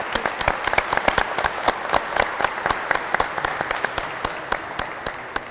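A studio audience on a packed television set applauds to welcome a singer and senator Gerardo Zamora, a steady patter of many hands with distinct individual claps, alone and even in level.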